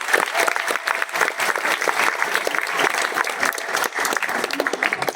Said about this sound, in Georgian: აპლოდისმენტები მეოთხე კლასს.